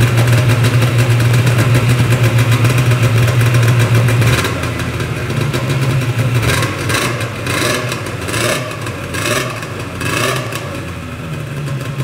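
A Yamaha Phazer snowmobile engine, its carbs freshly cleaned, runs loud and close: a steady idle for a few seconds, then a series of sharp throttle blips rising and falling.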